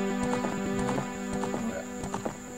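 Horse hooves clip-clop in a Legend of Zelda video game as a child rides, a quick run of soft hoofbeats sounding over steady game music, with no talk.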